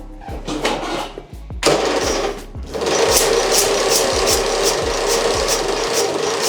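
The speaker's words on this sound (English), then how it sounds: "let's see if this thing will fire up." A car engine cranks over and over as it struggles to fire up, giving a loud, close, fast rhythmic chugging that breaks off briefly twice before a longer steady run, with no talking.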